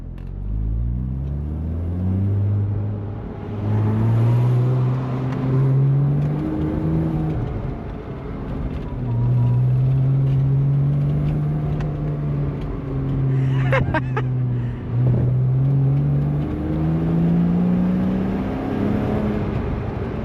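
A Porsche Boxster engine drones steadily while driving through Wales, its close, continuous note rising and falling in pitch as it accelerates and eases off, with no speech over it.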